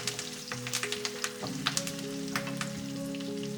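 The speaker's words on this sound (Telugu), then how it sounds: "ఇప్పుడు అందులోకి ఒక 5 రెమ్మల కరివేపాకు వేసుకొని వేయించుకోండి" Chana dal and curry leaves frying in hot oil for a ripe red chilli pickle, a continuous sizzle with scattered crackles and pops over a steady hum, close and moderately loud, no voices.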